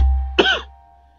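One short, close, throaty cough from a person who had been laughing, breaking a near-silent pause.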